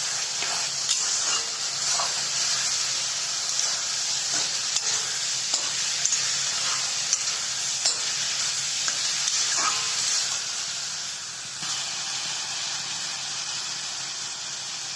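Chopped and grated onion frying in a pan while being stirred, a loud continuous sizzle with scraping stir strokes throughout, close and steady with no talking.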